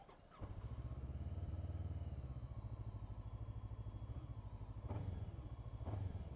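A Brixton Crossfire 500 motorcycle engine fires up and settles into a steady, throbbing run close by, with two brief revs blipping near the end.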